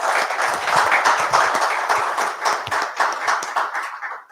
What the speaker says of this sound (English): So please a round of applause for the panelists.